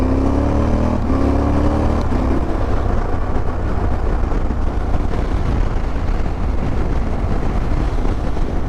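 Motorcycle engine on a cold winter ride, a loud, steady roar with heavy wind noise, the engine note climbing briefly at the start as the throttle opens.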